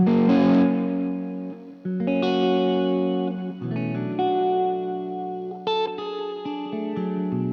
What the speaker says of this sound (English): Now I have a stereo delay.